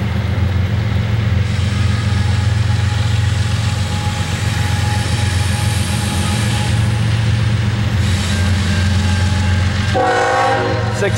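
A Norfolk Southern train rumbles steadily while crossing over between main tracks, a loud continuous low drone of engines and rolling wagons, with brighter wheel and rail noise rising near the end.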